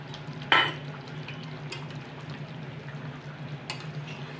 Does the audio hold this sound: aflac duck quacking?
no